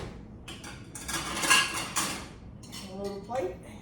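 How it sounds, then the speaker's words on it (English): Knife and small plate picked up in a kitchen beside a red velvet cheesecake, giving several bright clinks and scrapes of cutlery on crockery close by, with a pause before a second burst of clattering. "So let's just get a knife"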